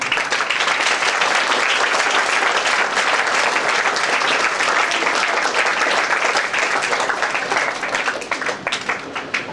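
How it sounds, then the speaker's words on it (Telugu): A hall full of people clapping for the principal and the madam, dense sustained applause that stays loud throughout and thins slightly near the end. "మన ప్రిన్సిపల్ గారిని, మన మేడం గారిని ఈ సందర్భంగా మనం చప్పట్లతో అభినందిద్దాం"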